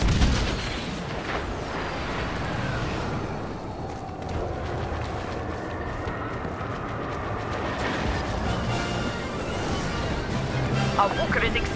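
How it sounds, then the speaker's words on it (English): Rebel ships fire on walkers in the Star Wars Battlefront game, with dense, continuous booming blasts and rumbling explosions filling the whole stretch, loud and chaotic. "Rebel ships are about to fire on our walkers."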